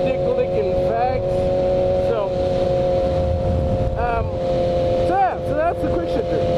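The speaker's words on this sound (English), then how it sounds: "So that's the quick shifter." A motorcycle fitted with a quick shifter rides at speed, its engine note dropping and jumping as it shifts gears without the clutch several times, over heavy wind rush and a constant drone.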